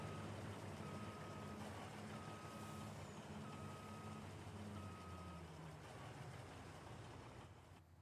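A truck's reversing alarm beeps in a slow, regular rhythm over a low engine rumble and steady background noise, moderately distant.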